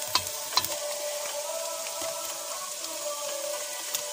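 Onions for onion soup fry in a pan, giving off a soft, steady sizzle with a few small clinks of stirring, moderately near and quiet.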